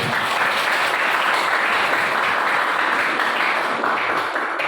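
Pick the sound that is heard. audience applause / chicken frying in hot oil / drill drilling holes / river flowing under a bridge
audience applause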